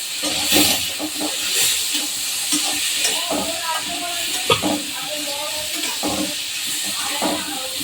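Vegetables and spices sautéing in a pan, a continuous close hiss and sizzle with occasional stirring scrapes and clinks, while someone talks over the cooking.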